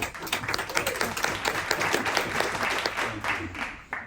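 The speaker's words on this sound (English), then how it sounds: "Let's give a nice round of applause to Charles." Audience at a talk on chord theory claps to welcome the speaker, a steady crowd applause with low voices murmuring underneath and fading near the end.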